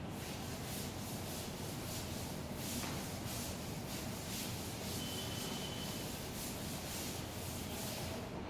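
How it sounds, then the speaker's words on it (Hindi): A board in a classroom lecture is rubbed clean with continuous, soft, rhythmic scrubbing strokes, faint and steady throughout, with no talking. "चलिए रब करते हैं इसको।"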